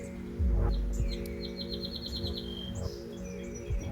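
Birds chirp and trill in quick, high repeated notes, moderately close, over a loud low hum and rumble of background noise, with a few other faint twittering calls.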